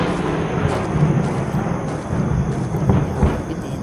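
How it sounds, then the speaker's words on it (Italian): Thunderstorm in the horror video game Sinister Edge: a deep, continuous rumble of rolling thunder with wind-like hiss, swelling in a few heavier low booms, loud and steady throughout. "C'è pure un temporale."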